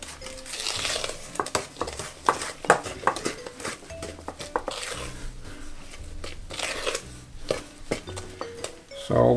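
American bakery cookie batter is worked in a bowl with a utensil, producing irregular scraping, clinking and thudding against the bowl with occasional sharper knocks, close and busy throughout.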